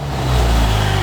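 A Mustang engine fitted with a new 3-inch turboback exhaust revs in neutral, a loud, deep, throaty roar swelling and holding for a second, close by.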